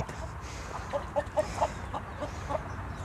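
Several short hen clucks in a loose series over a constant low background hum, moderately close.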